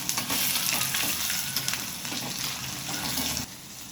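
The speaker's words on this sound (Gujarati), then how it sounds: "એમાં નાખીશ લીમડાના પાન, ઝીણી કાપેલી 1 મોટી ડુંગળી" Finely chopped onion frying in hot oil with mustard seeds, cumin and curry leaves, a loud continuous sizzle with crackling pops that eases slightly toward the end.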